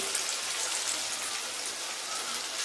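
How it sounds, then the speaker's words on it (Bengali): Chicken pieces deep frying in hot oil for restaurant-style chilli chicken, a steady dense sizzle and crackle that stays loud and even throughout, with no talking. "চিকেনগুলোকে আমি ডিপ ফ্রাই করব তেলটা গরম হয়ে গেছে এখন এর মধ্যে খুব অল্প অল্প করে আমি চিকেনগুলোকে"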